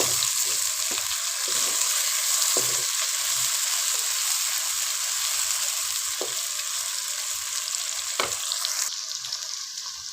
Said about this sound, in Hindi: अब हम इसके अंदर ये बारीक कटे हुए प्याज ऐड कर देते हैं।